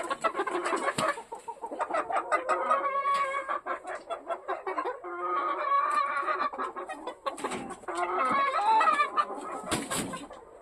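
Several chickens in a garden in December cluck and chatter close by in lively bursts, with occasional sharper calls, continuing throughout with no one speaking.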